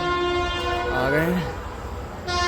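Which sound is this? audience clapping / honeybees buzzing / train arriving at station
train arriving at station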